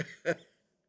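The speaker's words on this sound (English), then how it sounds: "I've got this strange cough." A single short, sharp cough, close and clear, followed by quiet.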